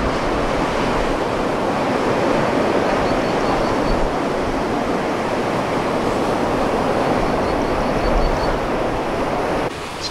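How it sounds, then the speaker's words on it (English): Large ocean waves break outside a bay, making a constant loud roar of surf mixed with wind noise on the microphone, steady for the whole stretch with no talk. "Some very large waves passing by on the outside, but not entering the bay"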